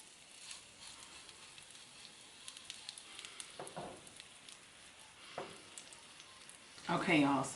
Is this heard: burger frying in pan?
yes